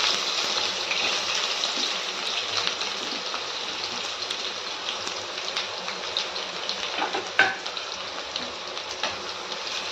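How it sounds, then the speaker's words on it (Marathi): Chopped onion fries in hot oil with cumin and mustard seeds in a pan, a close, continuous sizzle with a few soft stirring clicks and no talking. "कांदा छान असा परतून घ्यायचा आहे आपल्याला"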